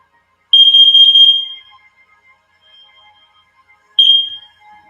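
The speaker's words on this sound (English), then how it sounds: "Thank you for like being the most annoying freaking alarm." A carbon monoxide alarm sounds its piercing high-pitched beep, one long tone followed by a second beginning a few seconds later, loud and close, with faint quiet sounds in between.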